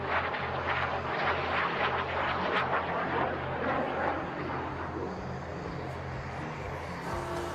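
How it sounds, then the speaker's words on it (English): An Indian Air Force fighter jet, either a Sukhoi or a Tejas, accelerates to about 400 knots for snap rolls at an air display, giving off a broad, sustained roar. It is loud at first and eases slightly as the aircraft moves off. "Please keep looking to your right as the aircraft accelerates to a speed of 400 knots to perform few snap rolls right in front of you."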